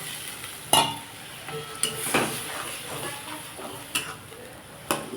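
Raw banana kofta curry masala being sautéed in a pan, a soft continuous sizzle broken by sharp clinks and scrapes of a utensil stirring, close up and fairly quiet.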